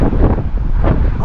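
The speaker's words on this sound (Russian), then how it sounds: "какой сильный ветер." Strong wind buffets the microphone outdoors in cold weather after rain, a loud, continuous low roar with gusty surges across the whole stretch.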